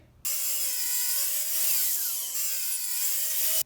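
A crosscut sled guides a board for a wooden cutting board into a power saw, which gives one steady, loud, continuous whine of cutting, rising and falling slightly in pitch, with no voices.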